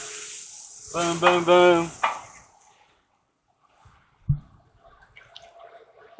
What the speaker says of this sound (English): just a little water. It'll steam clean right off.